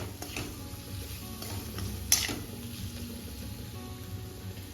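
Khichdo ingredients being stirred with salt in a pot, a soft, steady scraping and rustling close by with a brief clink of utensil near the middle, faint low background hum throughout.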